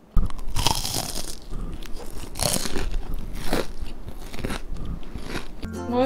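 Loud, close crunching as someone bites into crispy fried shrimp with ketchup and mustard, several crackly bites followed by chewing, with no talking.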